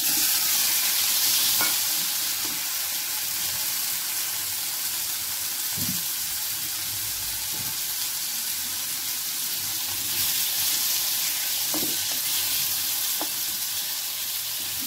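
Two large tomatoes frying in oil for a Rayalaseema-style peanut chutney, giving a steady, dense hiss of sizzling with a few soft spatula taps scattered throughout.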